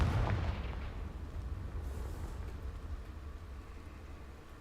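A Confringo fire spell exploding against dry vines in Hogwarts Legacy, a heavy booming blast at the start that settles into a long low rumbling roar.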